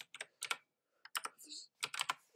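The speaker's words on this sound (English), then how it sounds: "I'll type hey in chat" Short bursts of keystrokes on a computer keyboard, a few quick clicks in separate clusters, close and fairly quiet with gaps of silence between.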